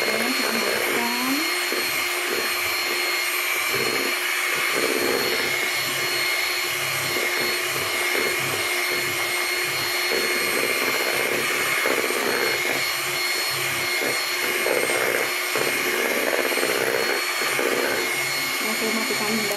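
Electric mixer whipping Swiss buttercream made with 250 grams of butter, a steady loud motor whine running continuously throughout with a faint voice now and then.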